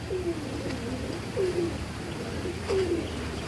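A female pigeon coos nearby in soft low repeated phrases, three short rolling calls spread over a few seconds against faint background hum.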